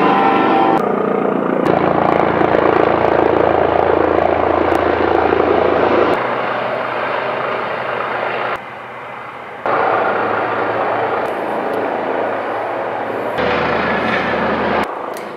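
Loud military aircraft flying low overhead during flight training near a US military base, a continuous heavy engine roar with shifting intensity that dominates the whole stretch without any talking.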